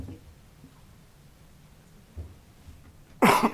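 A single sharp cough bursts out near the end at a city council meeting, loud and close into a microphone, after a few seconds of quiet.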